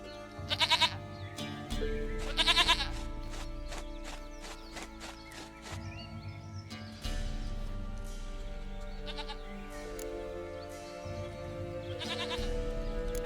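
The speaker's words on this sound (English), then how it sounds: "Goat of mine, dearest, sweetest goat." A goat in the video game The Witcher 3 gives a few short nasal bleats near the start, over a steady background of game music and ambience with faint hoof clops.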